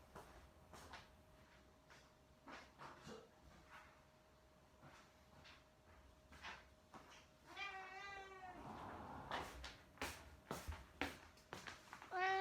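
An indoor house cat meows insistently near the end, a few drawn-out wavering cries after a quiet stretch of soft clicks and knocks, with a faint steady hum underneath.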